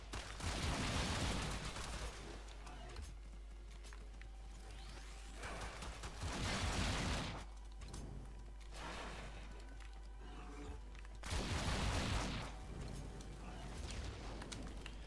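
Gunfire in the video game Warframe: several loud bursts of rapid shots spaced across the clip, with whooshing and rumbling game effects and steady background noise between them.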